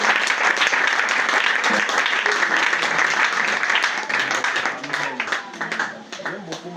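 A church congregation at a celebration of life cheers and applauds Jesus with dense, loud clapping mixed with shouts and voices. The noise tapers off toward the end.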